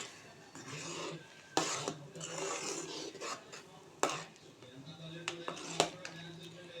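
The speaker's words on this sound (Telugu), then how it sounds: "ఇది వేసుకొని కలిపేయడమే" A spoon scrapes and stirs through a pan of capsicum masala curry as ground coconut, poppy seed and sesame paste is mixed in, with sharp metallic clinks at intervals over a steady scraping bed, close by and moderately loud.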